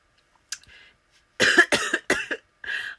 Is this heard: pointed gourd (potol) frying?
no